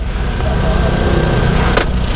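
A Suzuki R06A 660cc 49-horsepower 12-valve all-aluminum engine in a DA17V mini van idles with a steady low rumble, close by, with a brief clatter near the end.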